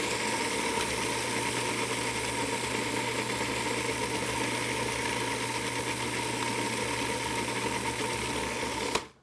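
A food processor motor grinds almonds with a loud, steady whirring drone, running continuously without letup before cutting off abruptly at the very end.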